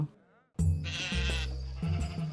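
A sheep bleats up close, a single loud wavering cry lasting over a second after a brief quiet start, with no talk around it.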